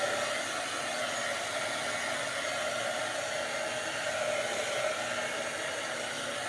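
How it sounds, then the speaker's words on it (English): A hair dryer blowing over a Dollar Tree craft piece to dry a coat of Mod Podge, a steady close whooshing whir that holds constant throughout with no talking. "let me give this a quick dry"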